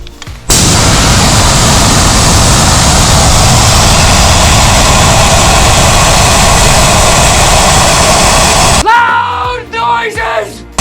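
Air rushes out of a Jeep tire through an Apex RPV deflator, starting from just over 35 PSI: a loud, steady, roaring hiss lasts about eight seconds and cuts off abruptly, followed by someone shouting.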